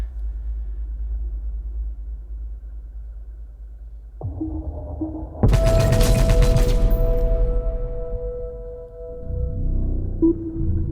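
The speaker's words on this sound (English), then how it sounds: "Let's shoot the eggs." Gunfire shoots eggs in the video game Deep Mystery at Anoxia Station, a sudden dense burst of rapid shots ringing out over a low ambient rumble, followed by a lingering tone.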